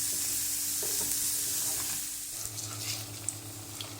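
Ingredients for unnakaya fry in a pan while a spoon stirs them, giving a continuous soft sizzle with occasional scraping and knocking, close by and without speech.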